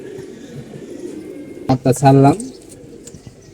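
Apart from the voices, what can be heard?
pigeons cooing, red pigeon pair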